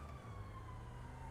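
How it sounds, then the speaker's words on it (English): Police sirens in the GTA V video game wail as a steady, sustained tone, faint and distant under a low background hum, with no talk over it. "Why are there sirens?"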